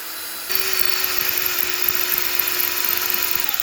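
A power drill bores holes into a jig for a BTR Stage 3 performance cam kit on a 1997-2004 C5 Corvette, starting after a brief hum and running as a steady, close, continuous whine with a rattling texture.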